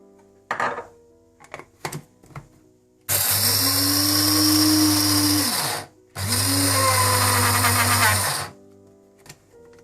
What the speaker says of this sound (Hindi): सबसे पहले मैं पिस्ते को हल्का सा ग्राइंड कर लूंगी।